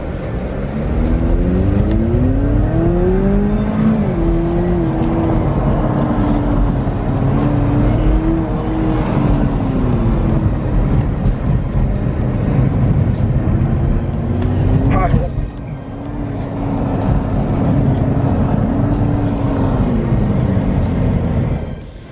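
Cadillac CTS and ATS cars, 4-cylinder turbo and 6-cylinder naturally aspirated models, autocross with a loud, continuous engine drone that rises and falls in pitch as they accelerate and shift, heard from inside the car without a break.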